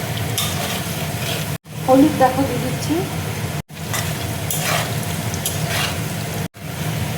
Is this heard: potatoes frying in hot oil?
yes